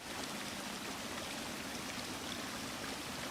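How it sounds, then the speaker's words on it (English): A waterfall in the Hollow Knight: Silksong video game, a steady full rushing roar of falling water with a bright splashing hiss, constant and even throughout, with no voices. "So it's a waterfall, and we found Chakra's master meditating under a waterfall"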